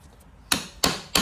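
Three sharp metallic hammer blows on a tool seated in a CV axle bolt on a Mk5 Volkswagen, evenly spaced and loud, each with a short ringing tail, no talk.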